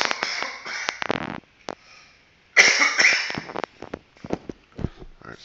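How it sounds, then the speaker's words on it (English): A person coughs in a series of sharp, loud bursts near the microphone, with a short pause and then more harsh coughing and a few smaller catches of breath. "sorry about the cough again"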